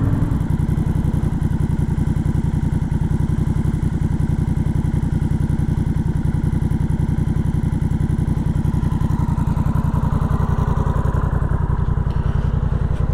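A Honda Rebel 1100 DCT motorcycle engine idles high, running as a steady, loud, close mechanical drone with an even pulsing rhythm throughout.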